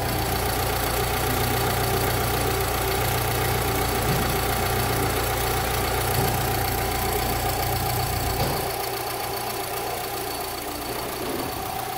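A freshly assembled Volkswagen Fox 1.0 EA111 engine idles in a workshop, a steady, even mechanical hum with a faint rhythmic ticking, recorded close up with no talking.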